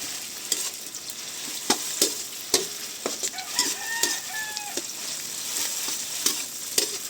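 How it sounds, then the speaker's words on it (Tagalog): Tomato paste sautéing in a pan gives a steady sizzle broken by sharp stirring clicks and scrapes at irregular intervals, close and fairly loud, while a rooster crows faintly in the background. "mas maganda po ay ginigisa talaga ang tomato paste"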